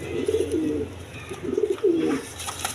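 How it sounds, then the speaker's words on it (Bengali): Lotan pigeons at a market stall give two clear, close cooing phrases, each a rolling throaty coo separated by a short pause, over low background noise. "লটন কবুতর একদম ফ্রেশ কোয়ালিটি"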